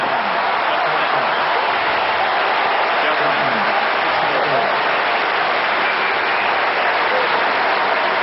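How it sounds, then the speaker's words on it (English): Crowd applause at a professional tennis match, a steady wash of clapping filling the whole stretch, moderately loud and even, with faint voices mixed into the noise. "he deserves their applause and support"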